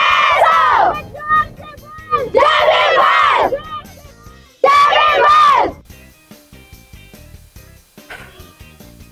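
Large crowd at a Bhim Jayanti celebration in Solapur roaring slogans together in three loud, sustained bursts of massed voices, followed by quieter scattered calls.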